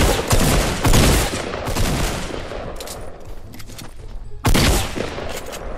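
Shotgun blasts ring out in a Fortnite match, several loud, booming shots in quick bursts with a lull in the middle, and no talking.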